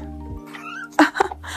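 Cat making noises while held, a short close drawn-out meowing and chirping vocalization with a couple of sharper cries, heard over a low steady hum in the background.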